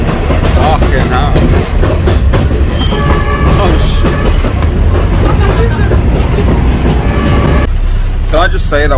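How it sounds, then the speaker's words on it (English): A train near Pursat, Cambodia, rumbles and rattles loudly and continuously on a bumpy ride, with clattering wheels and jolting, shaking noise; voices are faintly audible beneath the din. "the train is generally that bumpy"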